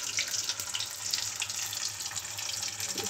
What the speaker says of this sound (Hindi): अब इसमें एक एक करके अपना एग डाल देंगे और एग को फ्राई करेंगे।